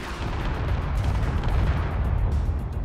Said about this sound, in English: we just shot the Hydra off the back